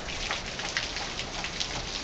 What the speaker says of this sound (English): And it's pouring.